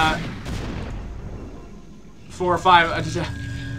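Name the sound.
cannons firing in StarCraft video game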